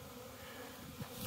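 Honeybees on orientation flights around a hive make a steady, faint buzzing hum that fills the whole brief moment without interruption and without any speech.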